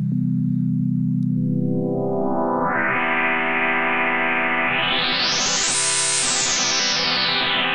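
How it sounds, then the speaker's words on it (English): A synthesizer tone from the Subtractor synth rising and sweeping in pitch, its timbre turning bright, metallic and buzzy as frequency modulation deepens, then gliding back down. Loud and continuous, no voices. "Frequency modulation works by modulating the pitch of the first oscillator"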